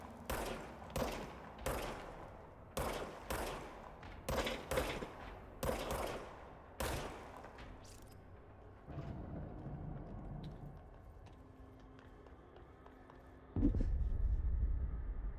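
Rapid bursts of gunfire from a weapon in the video game Control, sharp repeated volleys in quick succession for several seconds, then trailing off into quieter game ambience and a low rumble.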